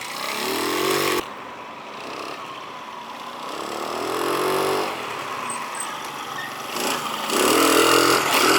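A 50cc scooter engine runs with a buzzing drone, revving up and down in waves. It sounds close and moderately loud, with no talk over it.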